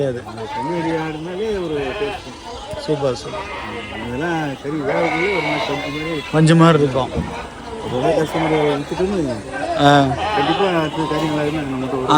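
Goats bleat over and over at the Veppur livestock market in Cuddalore, Tamil Nadu, with calls from near and far overlapping amid busy crowd chatter and people talking nearby.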